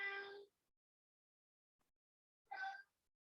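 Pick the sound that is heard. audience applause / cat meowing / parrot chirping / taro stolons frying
cat meowing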